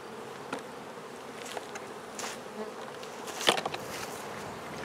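Honey bees buzz in a faint, continuous drone with scattered brief rises inside a lidded jar for a sugar roll varroa mite test, sounding muffled and enclosed, no voices.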